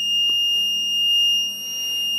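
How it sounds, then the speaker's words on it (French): A solar battery charger for AA cells and rechargeable AA batteries sounds its buzzer when charging finishes: a steady, piercing electronic tone held for the whole stretch, close and alone over a faint low hum. "Donc c'est la LED rouge qui est allumée et le buzzer qui sonne."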